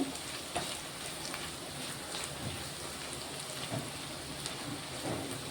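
Salted potatoes frying in a pan for aloo fry make a steady, close, even sizzling hiss like light rain, alone and without talk.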